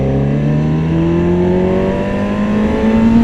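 A 2001 Kawasaki Ninja ZX7R sport bike engine revs up steadily and loudly close by, its pitch climbing smoothly over a few seconds; the bike has a dirty fuel filter.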